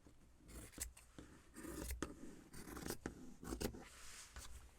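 Scissors snipping and trimming fabric for a junk journal cover, a series of soft crisp cuts and rustling scrapes repeating irregularly, close up and quiet with no voice.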